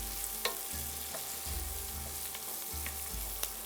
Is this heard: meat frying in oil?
yes